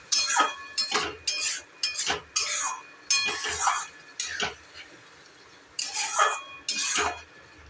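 Coconut and poppy seed paste is stirred into masala in a pan, giving a series of separate scraping and clinking strokes with short pauses between them, close and fairly loud.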